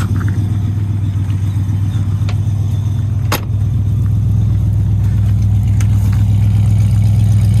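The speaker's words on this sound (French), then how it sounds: "nous avons démarré cette superbe Mustang 67." The V8 engine of a 1967 Ford Mustang idles steadily up close, a deep even burble with a brief click partway through.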